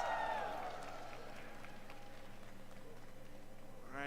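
A crowd at the EVO 2025 fighting game tournament cheers and applauds in a large hall, a swelling roar at the start that settles into a sustained murmur of applause, distant and diffuse, with a rising whoosh at the end.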